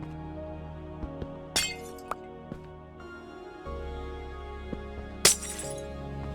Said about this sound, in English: I suppose I could leave the glass there, but I'm going to pick it up.